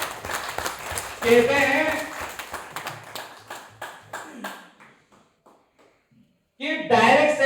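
Audience clapping at a live talk, a burst of hand claps that thins into scattered individual claps and fades out, mixed with someone speaking over it at the start and end.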